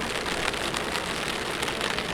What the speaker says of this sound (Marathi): मस्त धुवाधार पाऊस पडतो आहे